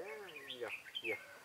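A white-cheeked bulbul gives a couple of quick, close chirps at a bird-trapping spot, with a low voice-like hum underneath.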